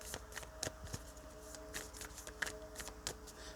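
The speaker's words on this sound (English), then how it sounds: "I'm just going to give this a good shuffle." Tarot cards being shuffled by hand, a quiet close riffling and rapid soft flicks over a steady faint hum.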